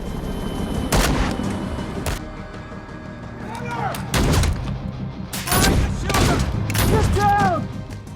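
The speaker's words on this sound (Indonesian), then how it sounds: "sempat terjadi lagi aksi tembak-tembakan" Gunfire rings out in an action film shootout between FBI agents and a fugitive, several sharp loud shots in irregular bursts with echoing tails, heard under a narrator's voice.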